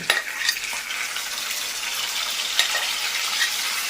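Turkey berries tipped into hot oil with garlic sizzle and hiss loudly and steadily, with a few stirring scrapes at the start, close up and without any talking.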